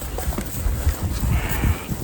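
Loose sheep on a farm bleat repeatedly while being herded toward an alleyway and corral, several short, close calls overlapping one another.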